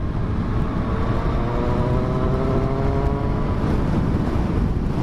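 A Triumph Street Triple motorcycle with an inline engine pulls steadily under acceleration, a continuous loud drone with rising engine harmonics and heavy wind rush, no voices over it.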